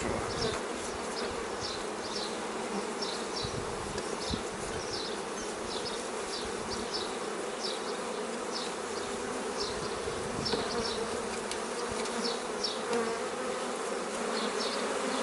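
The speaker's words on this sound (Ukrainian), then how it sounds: "бджоли намагаються перелізти зверху вниз" A dense, steady buzzing of a swarm of many honey bees, continuous and close, with a few louder bee passes rising above the hum.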